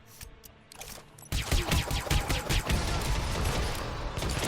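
Gunfire in the video game Hitman: Absolution: after a quiet start, a sudden burst of rapid, dense shots rattles on continuously and loudly, like automatic weapons firing in a close fusillade.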